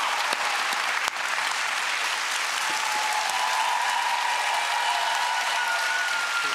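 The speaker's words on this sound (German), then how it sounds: "Das ist wirklich ein außergewöhnlicher Applaus." A studio audience at the German late-night TV show Late Night Berlin gives sustained, dense applause that stays loud and even from start to finish.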